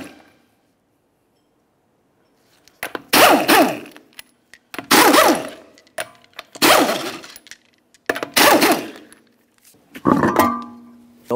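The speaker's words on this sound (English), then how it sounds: "continue on to removing all five of your 19mm lug nuts and then the wheel." An impact wrench loosens 19mm lug nuts on a 2003-2007 Honda Accord, five loud close bursts of hammering whir separated by short pauses, after a quiet start.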